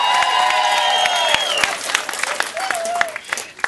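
Audience at a comedy show breaks into applause with scattered cheers, a steady wash of clapping that thins toward the end, with a voice speaking over it.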